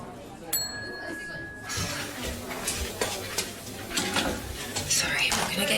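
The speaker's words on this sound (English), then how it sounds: "Okay, press the bell." A pub service bell is pressed once, a bright ring that hangs for about a second. Kitchen-like clatter and voices follow.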